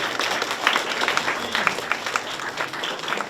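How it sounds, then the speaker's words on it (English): Audience applause for a guest speaker at an elementary school leadership event, a moderate patter of many hands clapping with individual claps standing out, fairly distant and steady. "Let's give him a round of applause."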